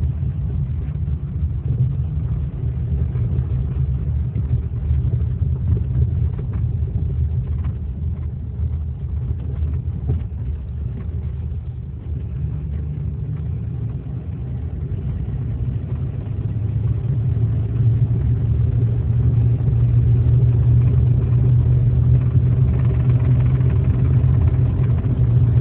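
Lincoln Versailles car with a new fuel tank climbing a driveway, its engine a steady low rumble heard from inside the cabin, swelling slightly louder toward the end, with no talking.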